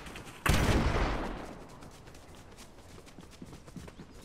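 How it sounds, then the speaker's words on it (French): Fortnite gunfire: one loud, sharp blast with a long decaying tail, followed by fainter scattered shots and clatter in the background. "Non, mais les gars, ça tire de partout"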